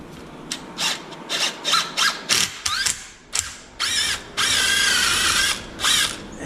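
Power drill boring a hole for a wide screw while building a Kraton RC truck chassis: loud, close bursts of whining motor and grinding, stopping and starting in short pulses, then one longer continuous run near the end.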